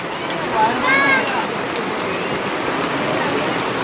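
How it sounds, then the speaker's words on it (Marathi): Heavy rain pours down steadily on a wedding gathering in a constant hiss, with faint voices briefly audible underneath. "जोरात पाऊस आलाय"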